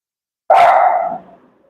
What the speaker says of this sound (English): Oops, my dog is barking.